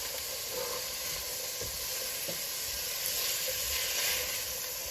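Onions, celery and carrots sautéing in a pot for leftover turkey soup, giving a steady soft sizzle and hiss with occasional light stirring scrapes, close and continuous.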